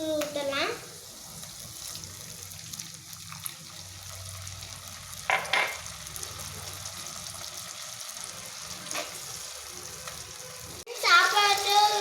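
Sweet lime juice poured into a hot pan with turmeric for mosambi rice gives a soft, steady fizz and sizzle, with a few clinks of stirring and brief talk over it.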